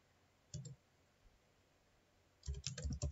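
Computer keyboard keys clicking as code is typed, a short burst of taps near the start, a quiet pause, then a denser run of close keystrokes toward the end.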